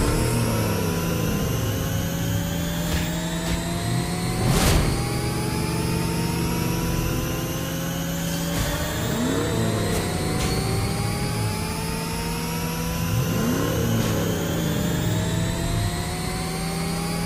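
Johnson's Starblazer car in Mobile Legends launching and accelerating, a steady loud mid-pitched engine drone with rising revving sweeps repeating every few seconds, alone without talk.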